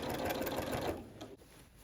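A sewing machine stitches through a heavy quilt in a fast, close, even whir that stops short partway through, leaving quiet room tone.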